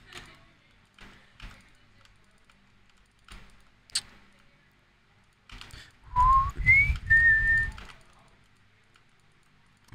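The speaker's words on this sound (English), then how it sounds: "I'm known for my ability to whistle. I'm very good at it." A person whistles a short melodic phrase of a few clear, rising and held notes, preceded by scattered soft keyboard taps and clicks in a quiet room.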